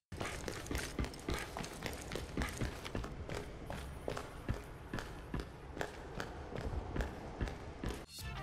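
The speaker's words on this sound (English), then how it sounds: "you can hear both of them with flip-flops when they're running around" Rapid flip-flop footsteps from Overwatch characters Grillmaster 76 and McCree slap steadily and close as they run, a continuous rhythmic patter of sandals over game ambience.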